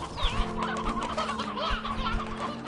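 Video-game chickens in Slime Rancher 2 cluck and chatter continuously over a steady low hum and game music, with a few louder close clucks standing out.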